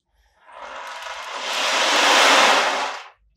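A musical instrument imitates ocean waves: one soft, rushing surge swells gradually, peaks and then quickly fades, heard alone and close for about three seconds.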